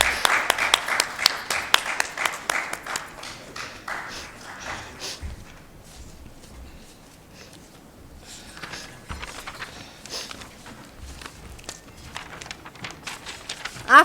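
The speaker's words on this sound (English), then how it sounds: "Please give them a huge round of applause." Conference audience applauding after a bouquet presentation, a burst of clapping that thins into scattered claps and soft movement, then swells briefly again near the end.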